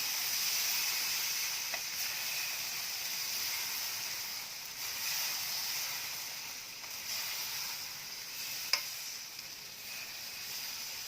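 Rava (suji) dosa batter sizzles steadily on a hot pan over a medium gas flame as it is quickly spread all around, a close, even hiss with faint clicks and no talking.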